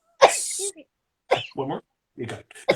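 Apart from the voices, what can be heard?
person sneezing, attributed to allergies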